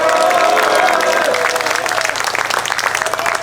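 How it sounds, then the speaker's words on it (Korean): A crowd of construction union workers at an outdoor rally breaks into applause. A dense, loud patter of clapping builds after a brief moment of voices. "우리 들어간 동지들께 반드시 긍정적 답변 받아오시라고 다시 한번 힘찬 박수 부탁드리겠습니다."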